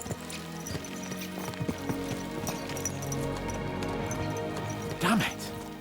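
Horse hooves clop along at a quick pace under background music and game sounds in Kingdom Come: Deliverance II, with a short voice-like burst near the end.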